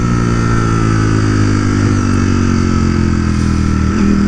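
A Ducati Streetfighter V4S motorcycle engine runs loud and close, a steady throaty drone with firm, even revs and a slight blip near the end, and no one talking.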